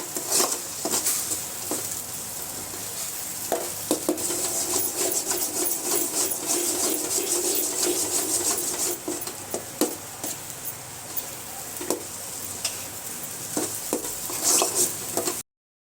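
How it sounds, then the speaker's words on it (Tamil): Sweet potato is sautéed in ghee in a pan for a halwa, with a steady soft sizzle and repeated scraping and stirring strokes of a spoon against the pan, close and continuous. "ஒரு 5 மினிட்ஸ் இப்படியே வதக்கணும்"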